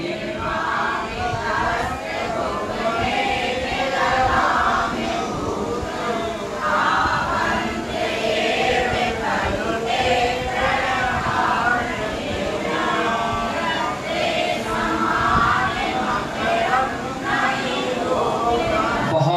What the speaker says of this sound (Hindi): आप सब लोग एक साथ पढ़िए, ये शांत राग, जोर से पढ़िए